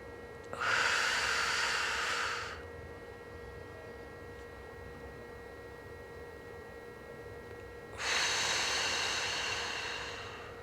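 Slow, audible breaths from a person doing a full-body posture therapy routine on the floor, two long airy exhalations several seconds apart with a quiet pause between, close to the microphone and with no talk.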